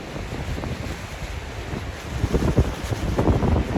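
Strong wind buffets the microphone in a steady low roar at Sennen, Cornwall, gusting louder toward the end, with surf faintly beneath.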